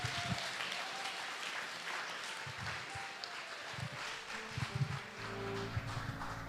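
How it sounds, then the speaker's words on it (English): Audience applause at a live startup pitch event, a moderately loud wash of clapping and crowd noise filling the clip from start to finish, with a few low thumps scattered through it. "Big applause, thank you, Nikki."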